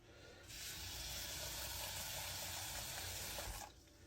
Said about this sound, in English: you're going to add water. And preferably hot water